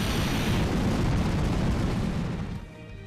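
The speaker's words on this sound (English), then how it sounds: "Did he just use self-destruct or," A loud, sustained explosion from a Pokémon's Self-Destruct or Explosion move in a Pokémon game, rumbling heavily for about two and a half seconds before tailing off.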